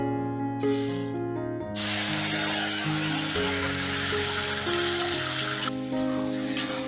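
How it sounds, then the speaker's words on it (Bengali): Onion paste made from three ground medium onions sizzles and hisses in hot oil in a pan, a loud continuous frying sound over background music. "এবার পেঁয়াজটাকে প্রায় দু মিনিটের মতন আমি ভালো করে ভেজে নেব"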